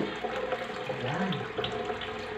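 Tap water runs steadily into a sink while pork is washed under it, a close, continuous splashing flow with small bumps from hands moving the meat.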